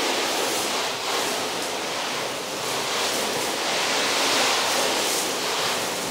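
Water is poured and splashed over a car body before a wipe-on water-repellent coating goes on, a steady rushing hiss that swells and eases across the clip with no talking.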